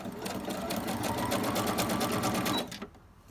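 A sewing machine runs a steady zigzag stitch across vintage postcards, a close, fast mechanical whir with rapid needle ticks for under three seconds before it stops abruptly into quiet.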